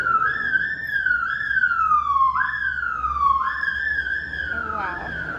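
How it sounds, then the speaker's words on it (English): A police siren wails steadily, its pitch rising and falling in repeated sweeps, fairly loud and close with faint traffic rumble beneath. "the sirens, just gonna let it fade a little bit"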